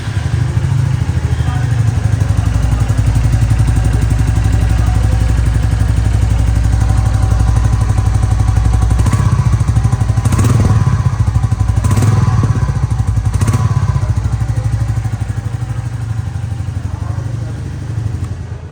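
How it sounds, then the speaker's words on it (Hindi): A Royal Enfield Meteor 350 Aurora single-cylinder motorcycle idles close up with a steady, deep thumping beat, then is revved in several short blips before settling back to idle. "इस बाइक का साउंड मैं आपको सुनाता हूँ कैसा है।"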